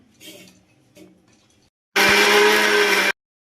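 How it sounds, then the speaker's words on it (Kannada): An electric mixer grinder whirs loudly to grind masala paste for a brinjal and chana dal gravy, a single burst of about a second after brief faint sounds, close by. "ಅಲ್ಲಿ ಮಸಾಲೆ ರುಬ್ಕೊತೀನಿ"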